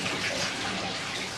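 Water gushes steadily into a big cauldron at a traditional apiary, a dense continuous rushing flow heard close and alone with no talking.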